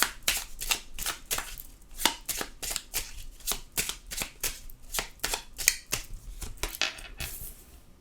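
Tarot cards being shuffled by hand in quick, crisp riffling bursts, a steady run of papery snaps and flutters close up with no talking.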